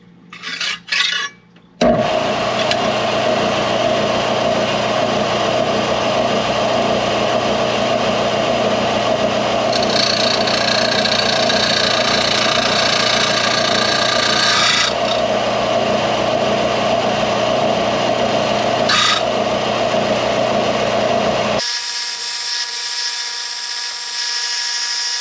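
A Harbor Freight belt sander grinds a 1/8-inch aluminum coupon with a loud, steady high whine and abrasive rasp that runs for about twenty seconds before cutting off, followed by a lower hum.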